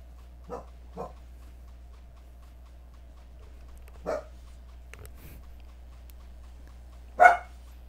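A dog barks several times at a distance in a quiet room, two quick yips, then a single bark, and a louder bark near the end. No one speaks.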